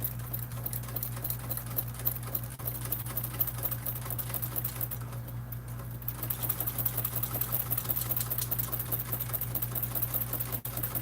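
A sewing machine with a walking foot stitches a bag, running in a fast continuous mechanical patter close up, with a brief lighter stretch midway and no talking.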